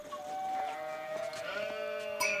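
Sheep bleating inside a real-time strategy video game match, several short bleats layered over a steady bed of game music and interface sounds, fairly quiet in the mix.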